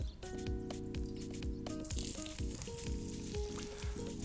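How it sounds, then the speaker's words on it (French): A young rooster browns in very hot oil for coq au vin, a continuous close sizzle with a low hum underneath and occasional louder spitting bursts, no talk. "une huile bien chaude et ensuite je mets mon coquelet de façon bien à dorer tous les côtés de celui-ci"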